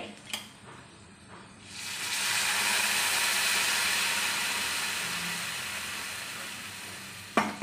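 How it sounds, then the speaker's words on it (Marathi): Hot water poured into a hot pan of sandge (vade) curry sets off a sudden loud, sustained sizzling hiss that slowly fades, after a few quieter clinks and stirring sounds. "याच्यामध्ये आपण टाकणार आहोत गरम पाणी म्हणजे पटकन उकळी येते"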